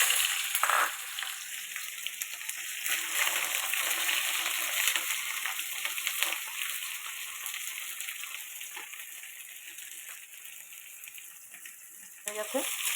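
Onions hit hot oil in a home kitchen pan where an egg has just been fried, giving a continuous close crackling sizzle that eases slightly toward the end.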